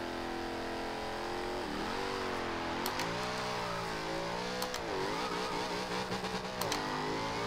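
A 2015 Jaguar F-Type R Coupe in Forza Horizon 2 accelerates hard down a straight, its engine note climbing in loud revving sweeps that drop sharply at each gear change, with several quick shifts in a row and no talk.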